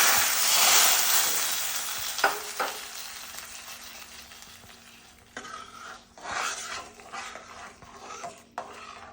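Tempering for Udupi rasam hits hot coconut oil in a pan and sizzles and crackles loudly at first. It fades, then flares again in short bursts with faint stirring scrapes and no talk.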